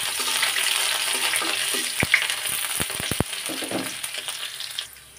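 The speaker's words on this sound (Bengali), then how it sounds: "রসুন আর জিরাটা একটু ভালো মতো ভাজি করে নিব।" Whole cumin and chopped garlic fry in hot oil for a fish-tail mash, giving a steady loud sizzle with a few sharp clicks and scrapes of a utensil against the pan partway through, easing off near the end.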